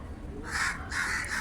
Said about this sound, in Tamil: காகம் எல்லாம் அவர் துரத்திட்டு இருக்காங்க சத்தமாக இருக்கு